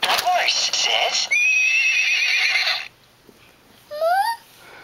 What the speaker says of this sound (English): What does the horse say?